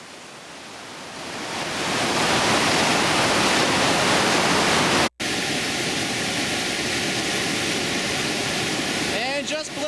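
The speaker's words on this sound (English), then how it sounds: "This was Lost Paddle. It's our longest, most technically demanding, and consequently most dangerous rapid." Lost Paddle, a long whitewater rapid of four main drops on the Upper Gauley River, roars as a loud, dense continuous rush that swells in over the first seconds, with a brief cut midway and faint tonal sounds near the end.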